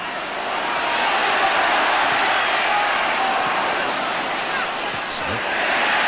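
A big football crowd at White Hart Lane during a 1989/90 Tottenham match against Arsenal makes a dense, continuous roar that swells slightly and fills the whole stretch with broad, even noise.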